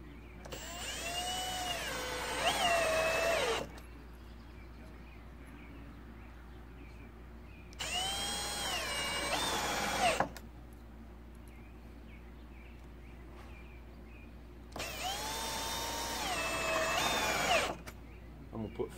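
A power drill drives screws into temporary wooden steps leading from a shed to a tiny home. Three separate whining bursts of a few seconds each are spaced by quiet gaps, heard close and fairly soft, with no talk.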